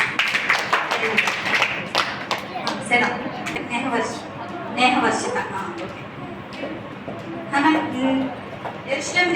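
A group claps together indoors, a scattered patter of hands, mixed with voices talking over it.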